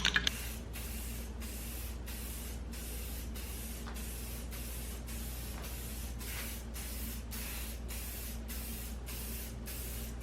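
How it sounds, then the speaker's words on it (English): Aerosol can of Rust-Oleum red chrome spray paint hissing onto a helmet in a steady, continuous close spray, broken by short regular pauses between passes, with no talk. "you don't want to just, you know, spray this stuff on really heavy and really thick"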